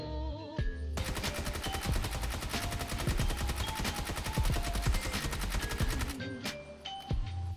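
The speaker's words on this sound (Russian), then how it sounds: "а вот так вот стреляет сам Бизон и такая вот у него отдача" A PP Bizon submachine gun fires in PUBG as one long, rapid automatic burst of loud, evenly spaced shots, lasting about five seconds, with quieter game sounds before and after.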